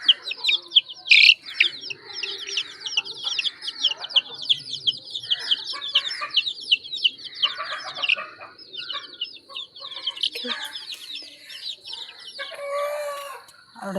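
Chickens and chicks at a home: dense high chirping from chicks runs throughout, with clucks and fowl calls scattered over it, fairly close and lively.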